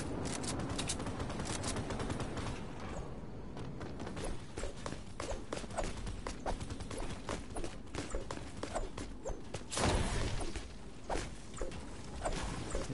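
Video game gunfire, a dense run of rapid, cracking shots with a louder burst near the end, over constant background game noise and without clear speech.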